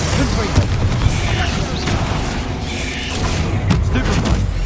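Confringo fire spell explosions in the video game Hogwarts Legacy, with booming blasts and crackling impacts in a dense, loud stream of combat effects, with a player's voice heard over them.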